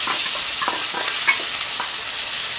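Cabbage curry spices cooking with tomato paste in a pan, a continuous close sizzle with soft scraping and stirring taps layered over it.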